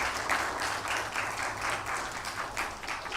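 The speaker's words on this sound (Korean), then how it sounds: "감사의 박수 하겠습니다" Applause of thanks from a university chapel congregation after a composed piece, steady dense clapping of a moderate crowd lasting throughout, even and sustained with no voices over it.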